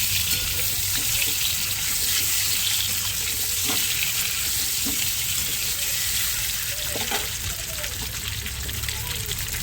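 An egg fries in hot oil until reddish-brown, giving a continuous bright sizzle with a watery, crackling texture and a few faint clicks and spoon touches.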